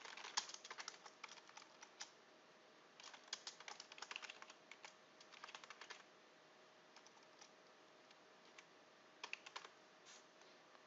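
Typing on a computer keyboard while entering a name and username: faint, close clicking in irregular bursts of quick keystrokes with short pauses between, over a quiet background hum.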